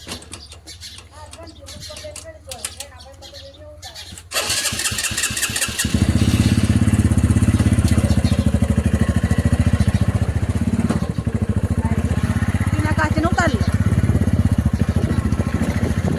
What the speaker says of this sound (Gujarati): તો ચલો બાઈક લઈને જઈએ આપણે.